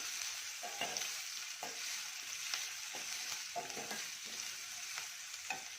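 Sambar base browning with salt in a pan, a close, steady fry with a hissing sizzle broken by regular scraping stirs about once a second, quiet, with no voices.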